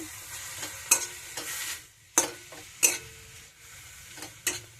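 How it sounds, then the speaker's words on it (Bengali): Soft cooked tela kochi greens salted in a pan are stirred with a series of distinct scraping strokes, about half a dozen close sweeps over a low sizzle, with no talking. "আবার একটু নেড়ে চেড়ে নেব।"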